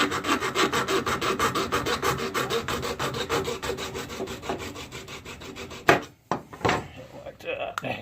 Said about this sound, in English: just use the hacksaw to try and trim it up a little bit